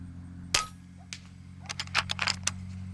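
Shots from an FX Impact M3 .30 air rifle strike metal targets out at roughly 85 to 90 yards, a sharp muffled crack followed by several faint clangs and a quick run of distant metallic pings over a steady low hum.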